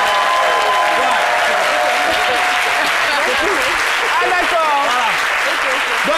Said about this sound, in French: Merci d'applaudir Mélie Tiako, s'il vous plaît.